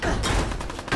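A burst of rapid gunfire rattles through a Fallout 4 fight on Xbox One X, with several sharp, close shots cracking over a dense, continuous din.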